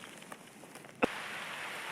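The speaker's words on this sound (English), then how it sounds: "it started raining" Rain begins falling in the hills around Marsco: after a second of near quiet, a sudden patter sets in and settles into a steady, soft hiss that continues to the end.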